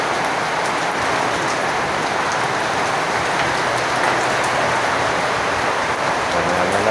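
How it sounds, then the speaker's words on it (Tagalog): Heavy rain pours down steadily at a construction site where plywood is laid out, a dense, even hiss of drops drumming on surfaces with no voices. "pabugso-bugso lang ang ulan na to pero ang lakas."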